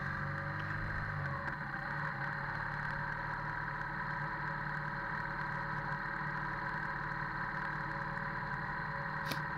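A BMW R nineT motorcycle engine while riding on a road, a steady mid-pitched drone with constant loudness throughout and a brief sharp tick near the end.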